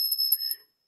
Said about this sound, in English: We ring our bell for Dorie Ann Ladner,